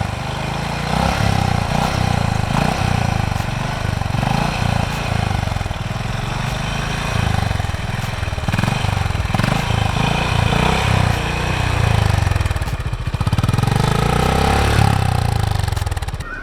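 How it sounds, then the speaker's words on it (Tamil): Exhaust of a Honda Highness CB350 motorcycle, a close, steady low thump at idle with a few blips of the throttle that swell the note and then settle back. "இந்த ஹைனஸ் 350யோட எக்ஸாஸ்ட் சவுண்டு வந்து பார்த்துக்கிட்டிங்கன்னா ஒரு ரீஃபைண்டான எக்ஸாஸ்ட் சவுண்டுங்க"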